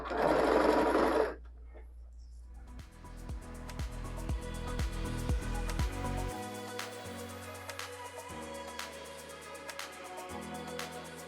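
A domestic sewing machine stitches a fabric bag in steady motor-driven bursts, following a brief noisy patch of handling at the start, then continuous rhythmic stitching with short pauses, close and clear with no talk.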